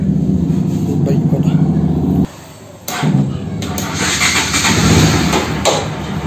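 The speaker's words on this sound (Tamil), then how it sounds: "போட்டேன், பைக்கு ஸ்டார்ட் ஆகிடுச்சு" A Bajaj Pulsar NS200 motorcycle with damaged wiring and a weak battery cranks and fires up, settling into a loud, rough idle with a brief pause and some revving, close by.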